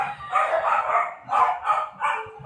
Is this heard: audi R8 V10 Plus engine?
no